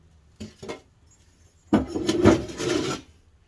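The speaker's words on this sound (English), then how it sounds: "I should clean my kiln shelves off" Harsh scraping on a hard ceramic kiln shelf, cleaning off residue: two short scrapes, a pause, then a longer vigorous rasping stretch close up.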